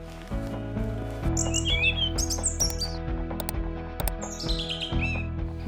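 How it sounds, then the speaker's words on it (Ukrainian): A European robin gives repeated thin, high chirps and short twittering phrases outdoors, clearly audible over a steady background of sustained musical tones. "Зветься вона вільшанка."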